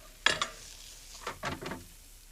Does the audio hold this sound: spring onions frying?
yes